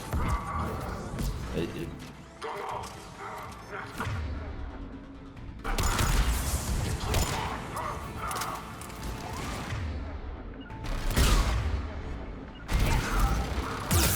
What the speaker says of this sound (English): Nope, something's shooting me.